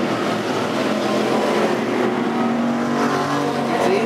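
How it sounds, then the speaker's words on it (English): Factory stock race cars roar around Diamond Park Speedway on the final lap of a feature race, a loud, steady engine drone with rising and falling revs as the pack runs close by. "one to go here in the factory stock feature race at Diamond Park Speedway"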